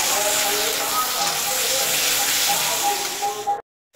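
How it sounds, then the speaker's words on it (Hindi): Onion paste hitting hot oil for prawn bahar, a loud, dense hissing sizzle that holds steady for about three and a half seconds, then cuts to silence. "अभी मैं इसमें डाल रही हूँ प्याज का पेस्ट।"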